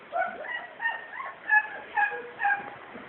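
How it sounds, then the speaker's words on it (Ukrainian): A dog barks repeatedly and insistently nearby, giving about six sharp, yelping barks in a steady rhythm with no speech over them. "Тобто собака вже задовбав тут."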